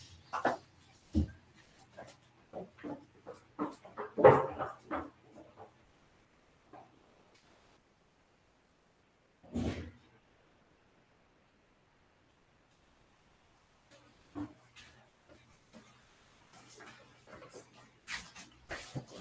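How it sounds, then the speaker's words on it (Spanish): A dog at home wanting to be let in and out: faint, intermittent whimpers, shuffles and rustling come in scattered bursts, with long quiet gaps between them. "estoy solo con mi perro y el perro quiere entrar y salir"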